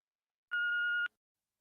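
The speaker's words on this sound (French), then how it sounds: "veuillez laisser votre message après le bip." Answering machine beep before a voicemail message, a single clean steady tone of about half a second alone in silence.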